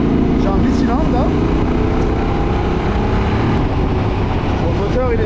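The twin-cylinder engine of a QJMotor SRT 600 SX motorcycle runs loud and steady right at the microphone, with wind rush over it and a voice talking throughout.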